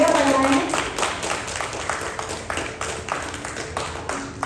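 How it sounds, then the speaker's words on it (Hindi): Audience applause at an excellence awards ceremony, a dense burst that thins into a steady run of separate claps that stays moderately loud across the room. "तालियां बजाएं"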